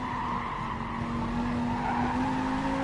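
Race car from a racing video game on the Spa circuit, engine held at full throttle with a steady high whine and continuous tire noise, loud and close throughout with no talking.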